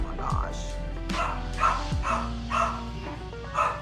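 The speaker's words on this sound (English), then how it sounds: "My dog is barking." A dog barks several times in quick bursts, fairly close, with some whining yips between barks.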